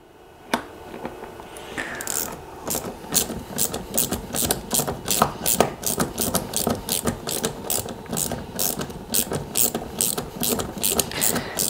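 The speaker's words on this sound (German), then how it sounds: "die mache ich dann mit einem 10er Kopf zu, indem ich auf der anderen Seite mit dem Maulschlüssel die Schraube fixiere" Ratchet with a 10 mm socket tightening a long bolt on an inflatable boat launching rail mount, the nut held by an open-end wrench: a loud, close, steady run of clicking ratchet strokes with no talk.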